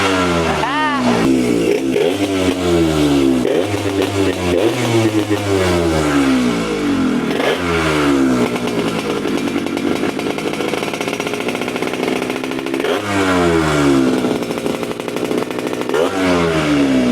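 A two-stroke motorcycle engine with a loosened throttle cable revs repeatedly, its pitch sweeping up and down in loud, close bursts that rise, fall and climb again throughout.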